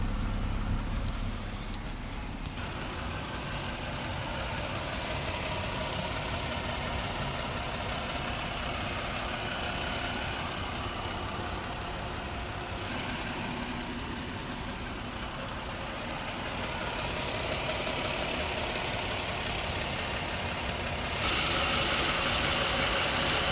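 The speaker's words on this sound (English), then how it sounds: "Engine sounds normal." A 2023 Dodge ProMaster 3500 Winnebago Travato camper's 3.6-liter front-wheel-drive engine idles with a steady, even rumble and light mechanical ticking, heard close and continuous with no talking.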